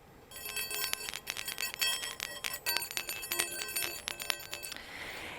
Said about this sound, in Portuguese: No budismo, também há o sino e esse som.